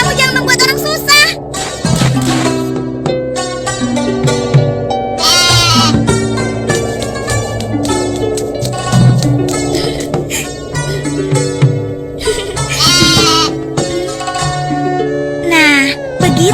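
Goats bleat loudly and repeatedly in long wavering cries, several overlapping, close up, with sharp clattering bursts and busy activity throughout.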